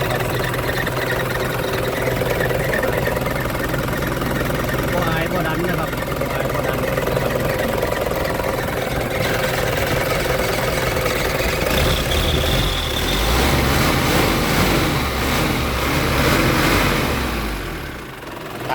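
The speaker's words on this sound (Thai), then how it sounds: "เครื่องยนต์เป็นเครื่องยนต์ แบบ90 HP นะครับผมเครื่อง90นะครับ" A 90 HP Isuzu TFR pickup truck engine runs at a steady idle, a continuous mid-low rumble throughout, with someone talking over it.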